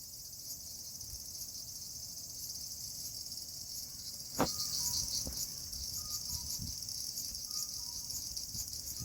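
A constant high-pitched drone of cicadas in Nagoya, Japan fills the air, interrupted midway by a sharp knock and a few faint clatters nearby.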